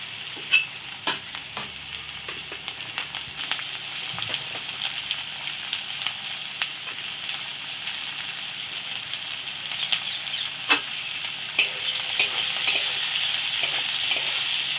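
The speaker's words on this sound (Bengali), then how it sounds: "এবার দিয়ে দেবো ক্যাপসিকাম।" Chopped capsicum fries and sizzles in a pan while being stirred, a steady crackling hiss broken by scattered clinks and scrapes of the spatula, close and with no voices.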